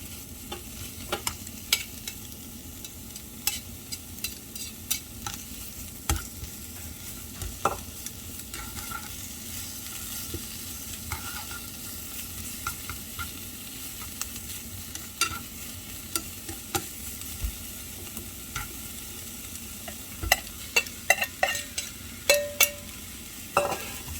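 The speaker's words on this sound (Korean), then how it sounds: "지금은 살짝 볶아주다가 야채가 다 들어가는 소금 간을 조금 해보도록 할게요" Vegetables for Korean japchae being stir-fried in a pan, a quiet continuous sizzle with scattered scraping and tapping of the utensil against the pan, a few sharper clicks near the end and no talking.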